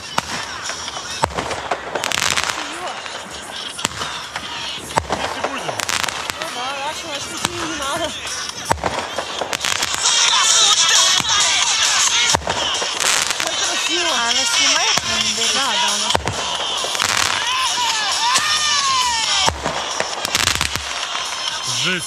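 New Year fireworks burst over a town in Pushkin, with repeated loud crackling bangs and sharp pops at irregular intervals over several seconds, mixed with cheering crowd voices and nearby talk.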